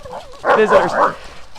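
Farm dogs give a short, loud burst of barking close by, a single cluster of yapping barks lasting under a second and followed by quieter background sound.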